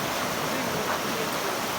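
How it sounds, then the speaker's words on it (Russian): A river rushes through a canyon in Kazakhstan, a dense steady wash of flowing water heard close and continuous for a short stretch. "Вот такая красивая река тут, оказывается, течет."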